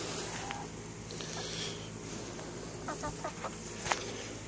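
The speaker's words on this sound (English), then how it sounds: "So we got 6 happy little chickens here." Chickens cluck softly now and then in a coop against a constant low hum, a few short calls rising above the steady background.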